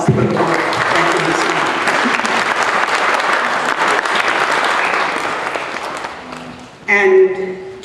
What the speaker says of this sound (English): I'd like to give him a round of applause for the work.